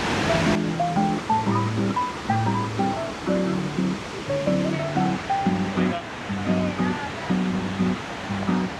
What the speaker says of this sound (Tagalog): We are at Schiefen Waterfall